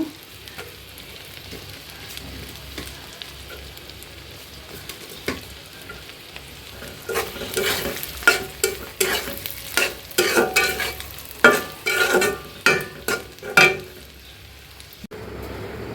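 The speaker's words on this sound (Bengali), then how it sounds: "পেঁয়াজটা দিয়ে আবার একটু ভেজে নিব" Onions frying in oil with spices for chicken bhuna: a quiet steady sizzle at first, then a run of rapid, loud spoon scrapes and clatter against the pan as the mixture is stirred.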